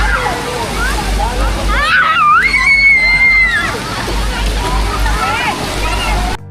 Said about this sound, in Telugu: అక్కడే పైన వాటర్ పడేటప్పుడు అయితే భలే ఎంజాయ్ చేస్తూ ఉన్నారు పిల్లలు.